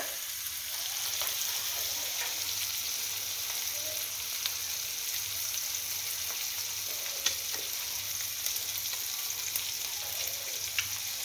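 Bacon sizzles and stir-fries with basil in a pan, a continuous close crackling hiss with occasional sharper pops and a faint scraping rhythm of stirring underneath.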